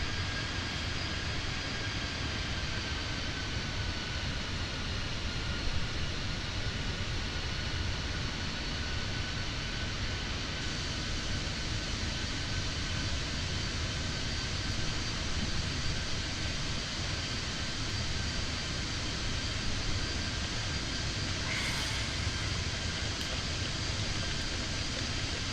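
Simulated EasyJet Airbus A319 airliner engines in a flight-simulator flyby, a steady broad jet roar that holds evenly for the whole stretch with a faint rising whine, no talking.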